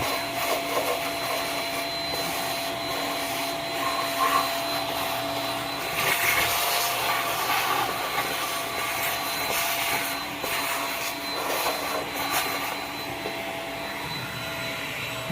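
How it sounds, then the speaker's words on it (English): A wet vac runs steadily while sucking coolant out of a 350 Chevy engine on a 99 Tahoe during head gasket work, a continuous loud whine and rush with slight surges throughout. "it's probably best if you have a wet vac, because you're going to end up sucking out some of that coolant"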